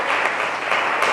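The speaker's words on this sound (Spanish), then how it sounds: "Dele un aplauso al Señor" Church congregation applauding to praise the Lord during a Spanish-language sermon, a dense steady clapping that fills the short moment at a loud, even level.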